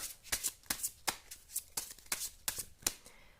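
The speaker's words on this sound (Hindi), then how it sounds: "2 कार्ड्स निकालूंगी मैं यहाँ से" Tarot cards are shuffled and drawn by hand for a cartomancy reading, a quiet close series of crisp riffling snaps and flicks in an irregular rhythm, with no talk.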